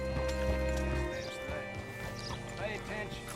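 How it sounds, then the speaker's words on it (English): Horse hooves clip-clop and a horse whinnies in the video game Red Dead Redemption 2, close and clear over background game ambience. "Hitch your horse up here."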